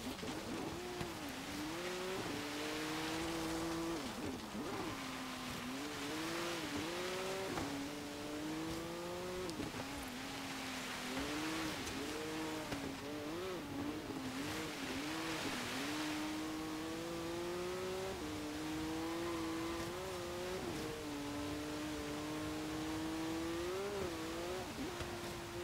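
A 2016 BMW M2 Coupé racing on a Blizzard Peak hill climb in Forza Horizon 3, its engine revving up and down through repeated gear changes, loud and continuous with faint tire noise.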